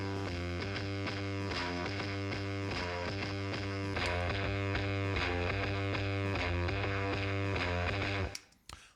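Distorted electric guitar riff recorded through a Shure SM57 microphone, a steady loud chugging pattern of harmonically rich chords that holds without a break, then cuts off abruptly near the end.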